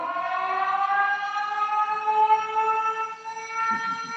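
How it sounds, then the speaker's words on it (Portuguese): A wailing siren holds a steady, drawn-out rising tone with layered harmonics, loud and continuous throughout, with faint background murmur near the end. "Cadê o som de sirene"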